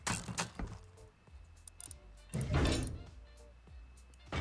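Building pieces snapping into place while constructing a base in Rust, a few dull wooden thunks and knocks, with one louder heavy placement thud midway and lighter clicks around it.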